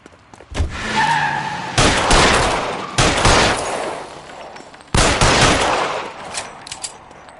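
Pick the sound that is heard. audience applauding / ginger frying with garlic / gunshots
gunshots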